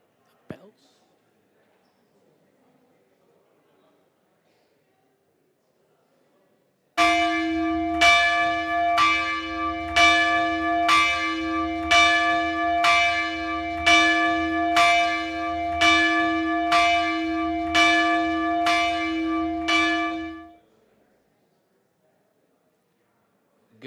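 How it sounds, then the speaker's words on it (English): Church bells ring for a morning worship service, about a dozen strong, evenly spaced strokes that each fade slowly into the next and carry on for roughly fourteen seconds before dying away, with a quiet stretch before they begin. "Bells."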